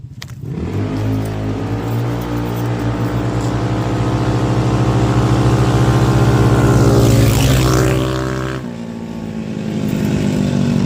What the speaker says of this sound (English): Hammerhead versus Carbide, 170 worked motors.